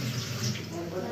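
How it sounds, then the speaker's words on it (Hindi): Water poured from a tap or vessel into a cooking pot while making magaz curry, a steady broad splashing rush throughout with no pause. "फिर थोड़ा पानी डाल रहे हैं"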